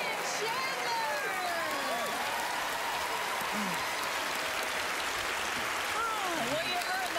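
A TV studio audience applauds a magic act, producing a dense, steady roar of clapping with cheers and whoops rising over it throughout.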